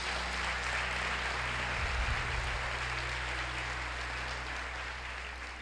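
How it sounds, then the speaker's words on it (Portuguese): A congregation at a church worship service applauds in a steady, dense wash of clapping that holds for several seconds and then slowly fades. "Você pode aplaudir o Senhor Jesus."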